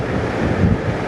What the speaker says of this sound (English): I don't know if you're picking it up on the microphone, but it is a little bit of a windy day today